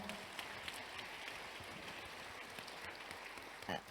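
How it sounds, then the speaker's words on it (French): Conference audience applauding after a presentation on supporting young Alzheimer's patients, a steady wash of many hands clapping at moderate distance, fairly quiet and unbroken. "On vous le souhaite et on vous applaudit."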